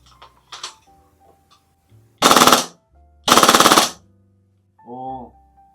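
Two short full-auto bursts from a G&G SMC-9 gas blowback airsoft SMG, rapid mechanical clattering shots with a pause between, with brief murmurs of speech before and after.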